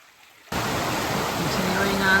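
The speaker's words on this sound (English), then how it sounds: "Some pretty creeks." A creek on a hiking trail rushes in a steady, close broadband wash after a brief quiet start, continuous flowing water with no voices.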